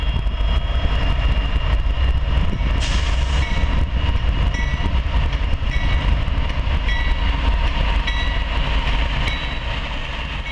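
A Norfolk Southern manifest freight train with an EMD SD60M in its consist rolls past at Coffey's Cliff near Chattanooga, Tennessee: a loud, continuous rumble with steady rail clatter and wheel squeal throughout.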